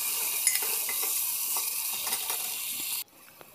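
Crushed garlic, onion and ginger fry in a pan with a bright, steady hiss, with light stirring clinks now and then, before the sizzle drops off abruptly near the end.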